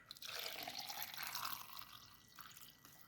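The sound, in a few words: water poured into a blender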